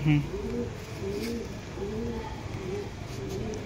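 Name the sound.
Pakistani pigeons cooing in a loft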